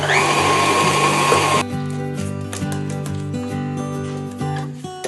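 A loud electric mixer whirs steadily on medium speed, its motor pitch shifting in steps as it beats chocolate cake batter, with a harsher rattling burst at the start.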